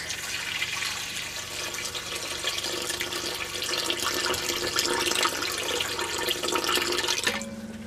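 Warm water pours steadily from a tap into a bowl of sugar and yeast for wheat bread dough, a continuous close splashing rush that stops abruptly near the end.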